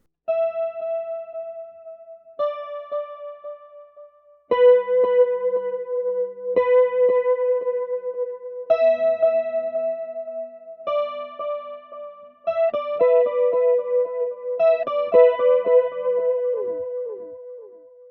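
Clean, shimmering electric guitar with chorus and echo effects, picking arpeggiated notes in a slow repeating pattern that grows busier toward the end.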